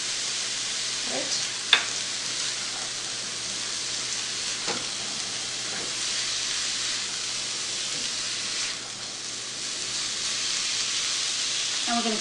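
Onions cook with salt in a pan for a spicy chicken curry, giving a soft, even sizzle throughout, with a sharp click or two and a few faint stirring scrapes, and no talk.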